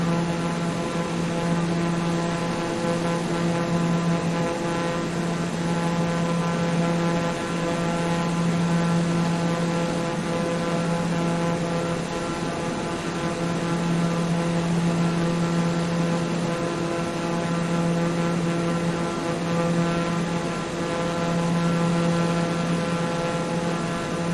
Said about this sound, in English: a TBM 930, which is what I'm flying